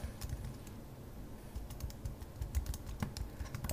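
Typing on a computer keyboard, a steady run of quick light key clicks at close range with brief pauses, no talking.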